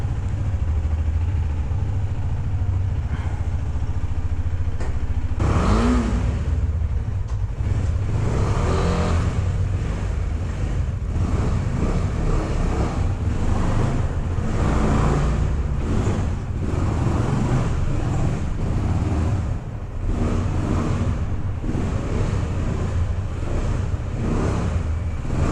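A KTM Duke 250 motorcycle riding up out of a basement, heard as a steady, unbroken engine drone with rushing wind noise that holds at a constant level throughout.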